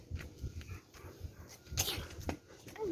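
A dog whimpers and snuffles at home in soft, faint bursts over steady background noise, close by, with no clear talking over it.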